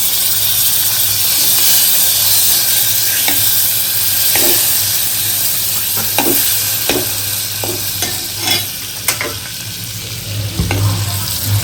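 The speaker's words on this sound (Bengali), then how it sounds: "এই যে গরম পাত্রতে দিয়ে দিচ্ছি চালটা" Rice being stirred and roasted in a hot pan on a home stove, a steady loud sizzling hiss with scattered scraping clicks of the spoon against the pan growing more frequent toward the end.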